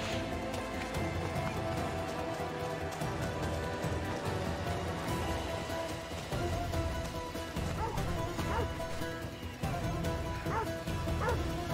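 Dog barking in Assassin's Creed Odyssey, scattered barks and yips over a dense, steady game soundscape of music and ambient noise, with brief talk mixed in.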